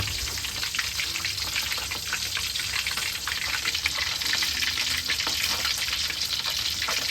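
Fish frying in a pan at a makeshift fishing camp, giving a loud, constant, close sizzle and crackle that runs the whole time with no talking.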